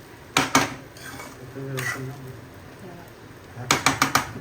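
Sabudana khichdi is stirred in a kadhai, with sharp metallic spoon clanks against the pan in short bursts at the start and end, close by, and a voice speaking faintly in between.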